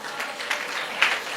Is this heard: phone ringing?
no